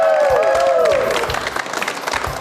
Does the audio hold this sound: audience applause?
yes